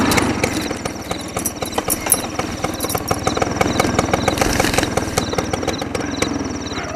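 A scooter engine runs at night, a steady, rattling mid-pitched putter that holds constant and close throughout.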